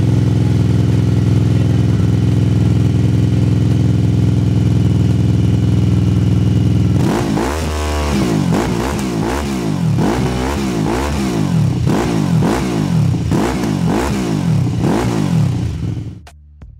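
A QJMotor SRV 600 motorcycle idles with a steady low rumble, then is revved repeatedly in rising and falling bursts for several seconds before cutting off, loud and close.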